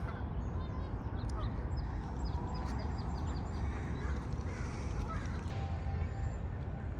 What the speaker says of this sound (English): We got some geese over here.